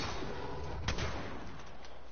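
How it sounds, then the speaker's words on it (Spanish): Gunfire from Caustic and Mirage in an Apex Legends-style shooter match: one sharp loud shot burst near the middle over a dense, noisy game background, with faint later cracks. "Recibí disparos de caustic. De un caustic y de un mirage."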